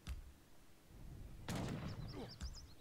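In Age of Empires III, a town center fires on a bank wagon, producing sharp, cracking gunshot-like reports spaced across a few seconds, one heavier volley in the middle, set against quiet background game sounds.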